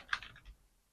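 A short burst of typing on a computer keyboard, a few quick, quiet key clicks close by in a quiet room, fading out within half a second.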